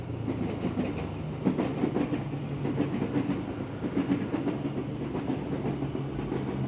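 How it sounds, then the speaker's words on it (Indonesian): A train rolls past a railway crossing gate, its wheels clacking in a steady rhythm over the rails, fairly close and constant throughout, with a faint high whine near the end and no speech. "Ada kereta, gue berhenti."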